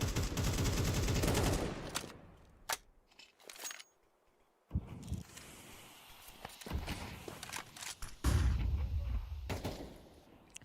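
Gunfire from rifles, pistols and an AWP sniper rifle in a Counter-Strike pro match, with loud bursts of shots at the start and end and scattered single reports, clicks and footsteps in between.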